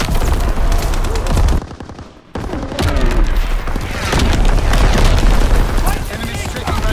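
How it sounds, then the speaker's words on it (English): Enemy artillery explodes during a Call of Duty: WWII battle, loud heavy booms and rolling blasts under constant gunfire, with a brief near-silent gap before the barrage resumes, voices shouting amid the combat. "Incoming enemy artillery."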